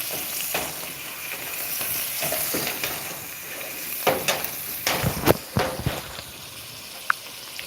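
Beef searing on a grill in butter and pork tallow, a loud continuous sizzle and crackle close up, with occasional sharper pops and spatters toward the end, no speech.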